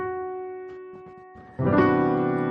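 Sustained chord tones fade, then a rich, full major seven sharp eleven chord is struck loudly and left ringing.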